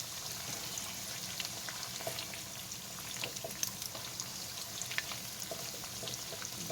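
Taco tortillas crisping in very hot oil, a steady faint sizzle with scattered small pops and crackles throughout, no voices.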